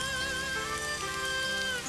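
Steady rain falls throughout, a dense, even hiss with faint tonal hum underneath, no voices.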